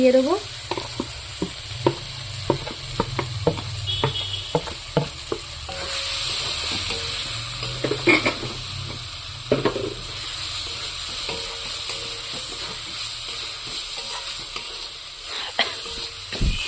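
Spices added to onion, tomato, green chilli and coriander leaves frying in a pan: a continuous sizzle with repeated clinks and scrapes of stirring, sharper bursts midway, quiet room background.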